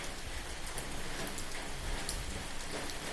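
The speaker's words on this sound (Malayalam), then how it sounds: "ഇതൊക്കെ മഴവെള്ളം തുള്ളി കളിക്കുന്നത് പോലെ" Monsoon rain in Palakkad falls steadily on garden plants, a dense even patter of drops on leaves with no voices, constant and close.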